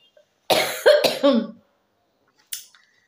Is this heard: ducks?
no